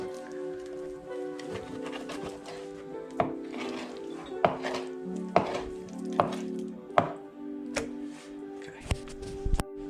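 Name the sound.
cutting pork into pieces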